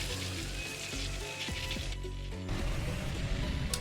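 The Psychic Vacuum attack effect from the video game Lost Dimension, a layered mechanical whirring and sizzling burst over game music, shifting midway into a heavier grinding swell.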